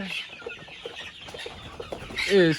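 Egyptian Fayoumi hens and roosters cluck in a repeated, close series of short calls, with one louder squawking outburst near the end.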